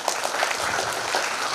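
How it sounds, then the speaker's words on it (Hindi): Brief burst of audience applause at a state school chess championship ceremony, dense steady clapping filling the moment without speech. "तो एक बार फिर मैम के लिए जोरदार तालियां"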